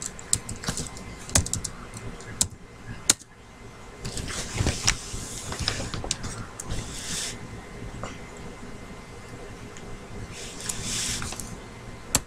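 Typing on a computer keyboard, irregular bursts of clicking keystrokes close to the microphone with sharp key taps and pauses between flurries, no talking.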